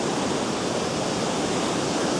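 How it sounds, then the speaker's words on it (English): A loud waterfall roars in a dense, unbroken wash of noise, close and constant, with no other sounds over it. "The falls have plenty of water, that's for sure."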